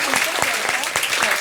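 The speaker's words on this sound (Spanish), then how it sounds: "Un aplauso, por favor" Audience applause breaking out, loud and close, with distinct individual claps standing out over a continuous clatter while a voice talks through it.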